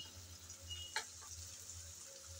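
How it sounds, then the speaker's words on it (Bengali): Onion frying in a pan with whole garam masala spices, giving a faint, steady sizzle with a brief clatter of stirring near the middle. "গরম মশলাটাও পেঁয়াজের সাথে ভালো করে ভেজে নেব, যতক্ষণ না সুন্দর ফ্লেভার আসে।"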